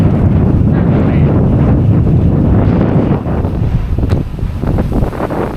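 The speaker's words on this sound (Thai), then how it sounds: "อันนี้ลมแรงแล้วเนี่ย" Strong wind buffets the microphone of a moving bicycle in a loud, continuous roar with gusty surges, easing slightly toward the end.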